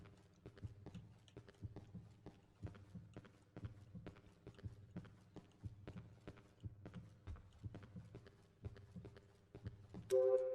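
A slow, regular thumping heartbeat in the video game Cry of Fear pulses through a low electronic hum, with a brief synthetic tone near the end.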